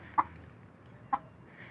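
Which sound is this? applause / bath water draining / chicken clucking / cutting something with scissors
chicken clucking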